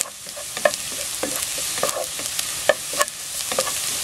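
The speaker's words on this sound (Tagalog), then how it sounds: "Hintayin natin medyo mag-brown itong garlic" Garlic sautés in oil for meatball soup, a soft continuous sizzle broken by irregular spoon-and-pan clinks as it is stirred, close and fairly quiet, with no talking.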